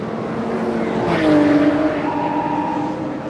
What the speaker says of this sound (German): Hier wird wieder das Tempo aufgenommen vom führenden Mantai Porsche.